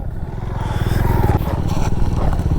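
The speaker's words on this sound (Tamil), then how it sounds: "த்ராட்லு கொடுத்துக்கிட்டே கிளச்சிங் க்ளோஸ் பண்ணிட்டு வண்டி இழுத்துட்டு அப்புறமா கிளச்சை மட்டும் விடுங்க" A Bajaj Pulsar NS 160 motorcycle revs hard for a wheelie, a loud, close, buzzing engine note that rises and holds throughout.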